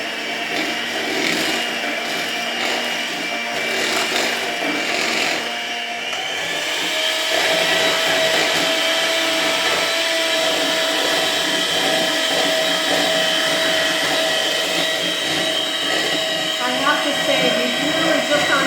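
An electric mixer creams an egg into chocolate chip cookie dough, a loud continuous whirring drone that steps up in pitch partway through, with some faint talk underneath.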